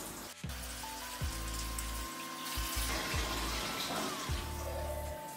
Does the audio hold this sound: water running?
yes